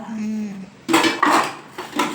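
Dishes, pots and utensils being scrubbed and washed by hand, clattering metal and ceramic knocks in several bursts, close and clear, after a short stretch of quiet background.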